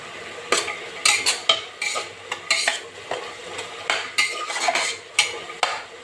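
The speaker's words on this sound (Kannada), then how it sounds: "ಒಂದೆರಡು ನಿಮಿಷ ಫ್ರೈ ಮಾಡ್ಕೊಳ್ಳೋಣ ಈಗ ಸ್ವಲ್ಪ ಅರಿಶಿನ ಹಾಕೋತಾ ಇದ್ದೀನಿ" Vegetables dusted with turmeric stirred and fried in oil in a pan, sharp irregular scrapes and clinks of a spoon against the metal over a soft sizzle, close and loud, with no voices.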